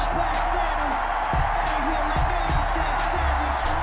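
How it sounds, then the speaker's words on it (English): Stadium crowd in a Madden 21 football game between the Titans and Washington at FedEx Field, a dense steady roar of cheering under an announcer's play-by-play. "this crowd is ready to go"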